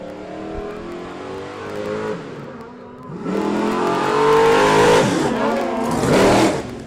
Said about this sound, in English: Big red hobo truck coming right at you.